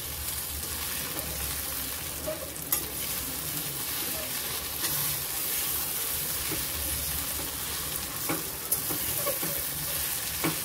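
Boiled potatoes sautéing with chaat masala in a pan for matar kachori filling make a steady, close sizzle with scraping stirs and occasional clinks of a spoon against the pan.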